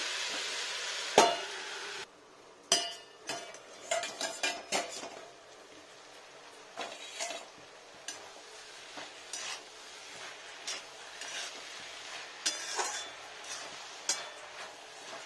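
Ingredients for a rui fish curry with onion greens fry in a pan, a faint low sizzle punctuated by irregular clinks and scrapes of a utensil against the pan, with no talking.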